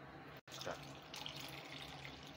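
Boiled milk poured into a pan of sautéed carrots for carrot halwa, a soft continuous splashing stream after a brief break, faint and close.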